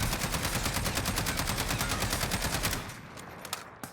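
Rapid automatic fire from an FN SCAR 17 fitted with a muzzle brake in Call of Duty Warzone, a loud, steady stream of shots that stops near the end, leaving a few scattered shots and quieter game noise.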